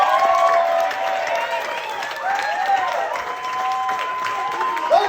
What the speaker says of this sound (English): Can we please get a massive round of applause for our incredible MC, Brandon Virgin.